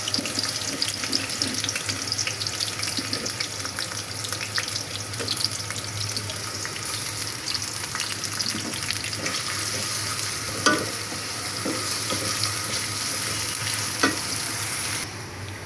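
Onion and garlic dropped into hot oil for tempering dal, a loud, dense, continuous sizzle and crackle held steadily throughout, with occasional small clinks, no talking.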